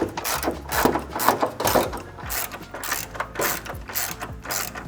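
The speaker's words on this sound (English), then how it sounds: "we'll start them in with the ratchet." A ratchet tightens bolts on a street shield and tunnel brace under an MK7 Volkswagen GTI, giving repeated bursts of quick metallic clicking in an even back-and-forth rhythm, close and fairly loud, with no talking.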